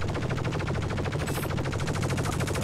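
Rapid, continuous automatic gunfire hammers at an enemy turret in the Star Citizen space game, a dense, loud rattle that holds without pause.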